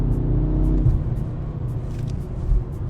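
A BMW M6 Gran Coupe accelerates with a deep, steady engine rumble heard close from inside, the low growl shifting pitch slightly as the revs change.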